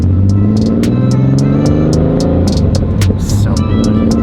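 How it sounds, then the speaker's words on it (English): An air-cooled Porsche 911 driving, its loud, steady engine drone filling the cabin with harmonic tones while sharp clicks tick over it. "This Porsche is meant to drive, and we're going to drive it there."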